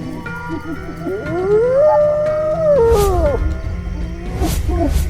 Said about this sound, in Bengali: হঠাৎ বিশ্রী হাসতে হাসতে সেই লাল হায়না শিউলিদের গোয়াল ঘরের সামনে এসে উপস্থিত হয়